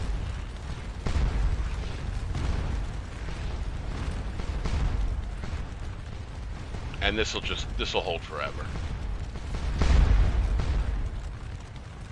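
Cannon fire in the Napoleonic battle game Scourge of War: Waterloo, with dull booming blasts and rumble spread across the scene, partly under someone talking.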